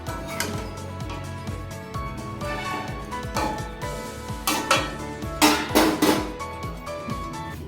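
Bottle gourd greens are stirred in a metal pot with a utensil, giving repeated scraping and clanking knocks, and a few sharper metallic clatters come near the end as the pot is covered with a lid.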